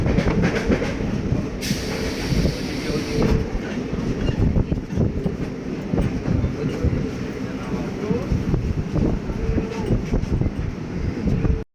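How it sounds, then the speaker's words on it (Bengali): A local train out of Srirampur carries its passengers along with a continuous rumbling rattle and rhythmic clatter of the wheels on the track. The cabin noise stays close and loud across the whole ride, with occasional voices mixed in. "শ্রীরামপুর থেকে ট্রেনে উঠে পজিশন মতো একটা জায়গা করে নিলাম।"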